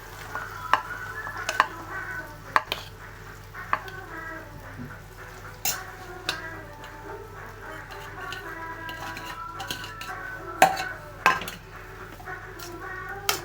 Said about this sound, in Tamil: இப்போ அப்படியே கிளறி விட்டுக்கோங்க நல்லா.